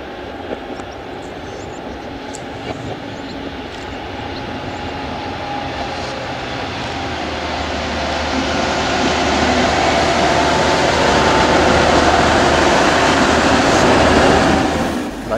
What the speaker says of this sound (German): Gleichzeitig erscheint gegenüber aus dem Döckinger Tunnel der Dieseltriebwagen aus Neustadt.